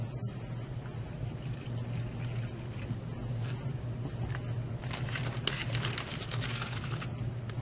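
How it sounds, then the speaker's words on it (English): Water is poured into a plastic bag holding Cool2Cast powder, making a faint, continuous trickle with a soft crinkle of the bag, close by and quiet. "I'm adding a 1/4 cup of water."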